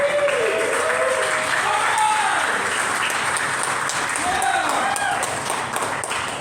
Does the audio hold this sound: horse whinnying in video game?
no